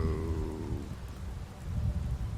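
Steady rain falls in the London setting of the video game Secret World Legends, a dense hiss with low rumbling underneath, heard alone and fairly close.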